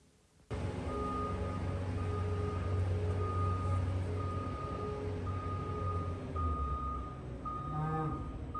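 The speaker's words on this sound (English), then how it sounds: "it's actually the backup alarms on a couple of different vehicles" Backup alarms on a skid steer and a feed truck beep repeatedly in the background over steady engine rumble, evenly spaced electronic tones continuing throughout, with no talk.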